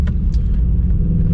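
Deep, loud rumble from a cammed Cadillac CTS-V engine, heard close with a steady low throb and slight uneven pulsing, no talk.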